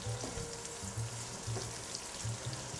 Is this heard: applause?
no